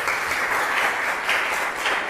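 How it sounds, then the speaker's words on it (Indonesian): Steady applause from a group of students in an online class session, a continuous wash of clapping that holds at an even level throughout with no voices over it. "Tepuk tangan dulu."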